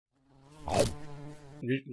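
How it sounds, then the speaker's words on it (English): A giant bee buzzes in the animated series RWBY, a rising insect drone that swells to a loud burst and then hums on steadily, heard alone. "Oh no, a giant bee!"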